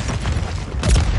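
A flash grenade goes off in Warzone: a dense, loud burst of noise, swelling into a booming blast near the end of a short stretch of constant din.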